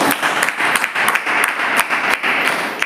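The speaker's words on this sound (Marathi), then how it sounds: "तर आपण जोराने टाळ्या मारून प्रभूला धन्यवाद देऊया" A congregation at a church service claps loudly in unison, a dense rhythmic applause with regular sharp beats that fills the room without pause.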